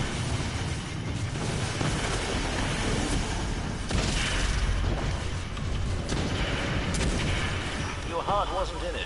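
Grenades go off in Destiny 2 amid ongoing combat, with repeated heavy blasts and rumbling impacts layered with mechanical clanks and creaks over about nine seconds.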